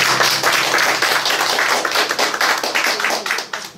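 A cafe audience at a live music performance claps for the pianist, a lively burst of many hands with distinct sharp claps, sustained throughout and fading slightly at the close.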